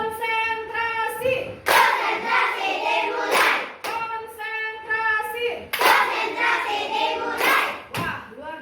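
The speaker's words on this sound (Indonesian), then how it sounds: "Nah, kita lakukan tepuk konsentrasi" Children in a classroom chant in unison during a concentration clapping routine, and sharp group hand claps land at regular points in the rhythm, loud and close.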